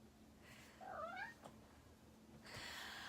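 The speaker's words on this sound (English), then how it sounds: "This is the mama cat." A mother cat meows once, a faint rising-and-falling cry, followed a moment later by a softer, higher second meow in a quiet indoor room.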